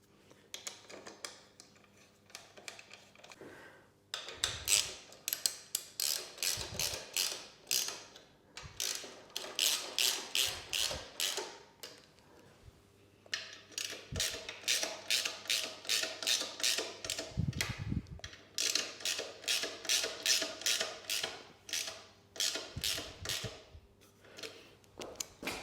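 A hand ratchet drives bolts into an SW-MOTECH Legend Gear side bag bracket on a Triumph Bonneville SE 865. Runs of quick, close, rhythmic clicking repeat with brief pauses and a few dull knocks between them.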